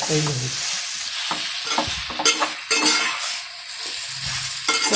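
Noodles frying in a pan while being stirred, a loud continuous sizzle broken by repeated scraping and tossing strokes, close and without talk.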